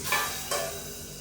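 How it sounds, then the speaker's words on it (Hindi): Tempering for raita sizzles briefly in a hot pan, a short bright hiss with two quick bursts, close and fairly loud, with no talk. "ये भैया रायता बना रही है पारुल, इसके लिए तड़का बना रही है वहाँ पर"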